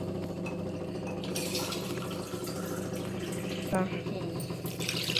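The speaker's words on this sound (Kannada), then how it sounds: "ನೋಡಿ ಎರಡು ಲೋಟ ನೀರು ಹಾಕ್ಕೊತೀನಿ" Water pours in a steady stream into a pot, about two glasses for making sugar syrup, splashing faintly amid a busy background hum.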